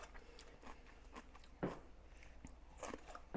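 Homemade coleslaw is chewed up close, with quiet crunchy bites and chews at an irregular pace and one sharper crunch midway, all faint.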